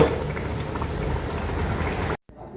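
Pot of Thai chicken sour curry with herbs and vegetables bubbling at a steady boil, a dense close gurgling that stops abruptly near the end.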